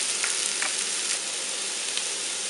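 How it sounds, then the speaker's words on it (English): Vegetables and mushrooms stir-frying in a pan for pad Thai give off a steady, close sizzle throughout, with no voices. "And yeah, leave that stir frying."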